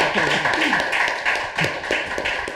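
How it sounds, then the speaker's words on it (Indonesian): Audience clapping for Professor Satrio on a talk show stage, a steady spatter of hands mixed with voices talking over it throughout, with a faint steady hum running underneath. "tepuk tangan untuk Profesor Satrio"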